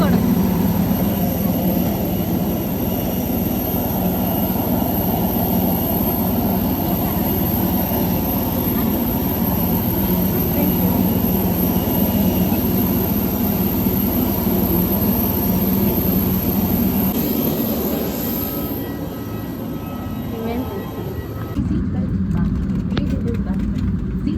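A loud, steady airplane jet engine roar at an airport during boarding fills the whole stretch, broadband and unbroken, with a brief dip in the low rumble near the end; voices are faintly mixed in.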